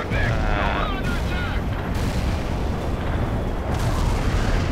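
An artillery barrage firing in the World in Conflict strategy game, a continuous heavy rumble of booming shells with sharp bursts near two and four seconds, and a radio voice speaking over the noise at the start.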